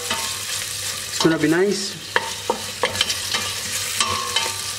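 Caramelized onion and cooked bell pepper in a frying pan for shakshuka, giving close stirring scrapes and a steady sizzle, with a short spoken remark partway through.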